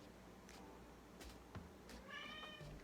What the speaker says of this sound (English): My cats are singing to each other.